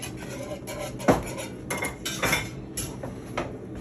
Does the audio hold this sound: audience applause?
no